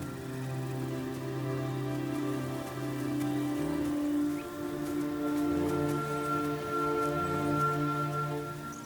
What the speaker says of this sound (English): Right now it's raining a lot more in the northern Serengeti than in the south.